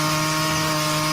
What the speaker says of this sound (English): It's zombie sawing time.